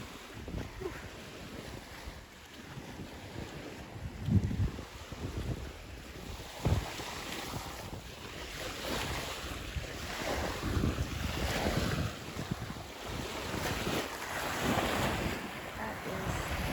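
Waves and wind at a beach on a bay, a rushing surf wash with gusty wind buffeting the microphone, surging and fading irregularly throughout.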